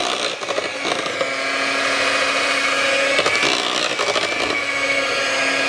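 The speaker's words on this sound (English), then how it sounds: "Now I'll blend that in till it's all combined." A blender whirs steadily as it mixes a no-bake maple pecan pie filling, loud and close, with short breaks in the motor's grinding drone.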